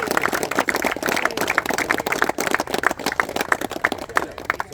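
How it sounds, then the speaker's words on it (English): Audience clapping fills the hall at a cricket league inauguration, a steady dense patter of many hands held at a fairly even level for the whole stretch, with no voice on top. "guys clap guys"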